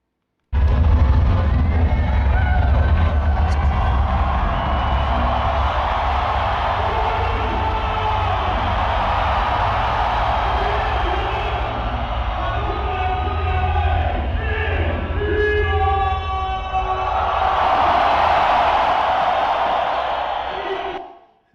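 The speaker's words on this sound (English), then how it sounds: "So this audio comes in a little bit hot because the crowd is so freaking loud." Very loud WWE arena crowd roars and cheers continuously as a wrestler enters the ring, a massive sustained din with shouts and chanting voices, swelling again toward the end before cutting off.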